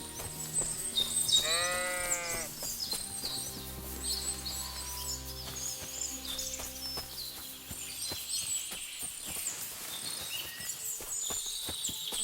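A sheep bleats clearly in Kingdom Come: Deliverance II, one loud wavering call near the start, followed by footsteps, ambient birdsong and light farm sounds.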